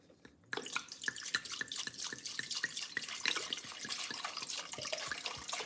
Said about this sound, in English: you put some cheap white wine